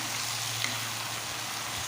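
Chopped mushrooms frying in hot oil while being stirred, a constant soft hiss of sizzling throughout, close and even, with no voices.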